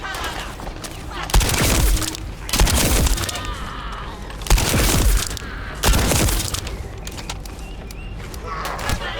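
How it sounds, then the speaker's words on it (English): A shotgun in The First Descendant booms in about five heavy, spaced blasts, each with a sharp crack and rumbling tail, loud and close. "Oh, it's a shotgun."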